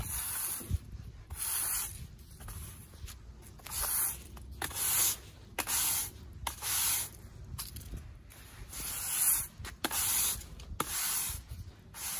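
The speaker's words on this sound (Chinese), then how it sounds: "现在把这个车库外头停车的地方树叶给它扫了" A broom sweeps fallen leaves off a garage driveway outdoors in steady, repeated scratchy strokes, each a short rasping burst with brief pauses between.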